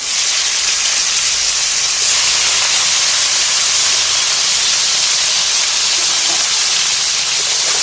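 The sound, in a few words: cauliflower frying in oil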